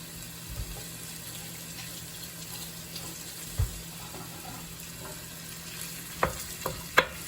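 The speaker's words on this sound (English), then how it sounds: "I think I'm going to go ahead and put in the ground beef" Ground beef frying in a pan with rapini waiting, a soft continuous sizzle at low level, broken by a few sharp clinks and scrapes of a utensil breaking up the meat.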